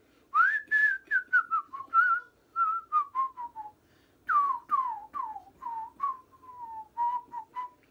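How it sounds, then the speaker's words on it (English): A person whistles a lilting melody alone, phrases rising and gliding down, with short pauses between runs of notes. "Can you whistle? Heck yeah, and I could whistle pretty good too."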